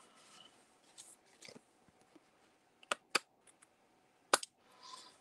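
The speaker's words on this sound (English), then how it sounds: "Let me just trim that." Paper being trimmed with scissors during a card-making session: a few crisp, close snips spaced apart over quiet rustling, with no talking.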